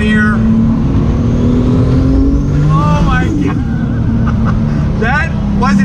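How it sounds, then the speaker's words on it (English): A 1993 Toyota Supra MK4 with a 2JZ engine accelerates hard through the gears, its loud engine note rising and dropping with each shift from inside the car, with voices talking over it. "did he just totally floor it and go through the gears?"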